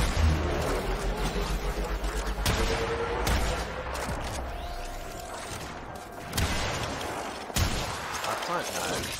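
Video game gunfire: repeated sharp reports and bursts, mixed with mechanical clatter, over a dense and noisy battle soundscape that runs throughout.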